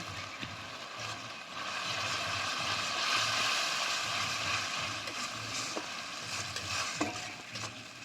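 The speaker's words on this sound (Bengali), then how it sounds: "এবার আমি মশলাটা আবার ভালো করে কষে নেব" Ground spices, coriander powder and kasuri methi, fry in a pan while being stirred for a snake gourd and soybean curry. The result is a steady, moderate sizzle with scraping and clinking of the spoon throughout.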